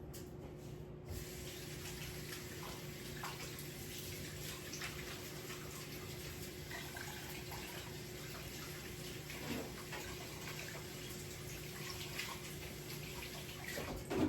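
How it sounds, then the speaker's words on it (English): Hands being washed under a steady stream of running tap water in a home kitchen after kneading biscuit dough, a faint continuous splashing hiss with light rubbing throughout. "let me wash my fingers"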